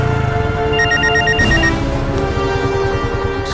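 Telephone ringing loud and close as a call is placed in a Tamil comedy serial, a steady repeating electronic ring pattern that continues throughout with no talk over it.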